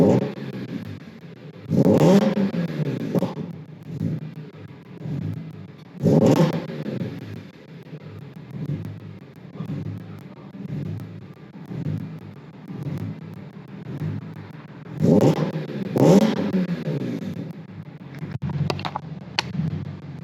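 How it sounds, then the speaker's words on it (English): A car fitted with a new exhaust setup starts up and is revved in several short blips, deep throaty bursts rising over a low idling rumble, close and fairly loud, with quieter pauses between. "Okay, so immediately on startup, this exhaust is a lot quieter than my other setup that I had."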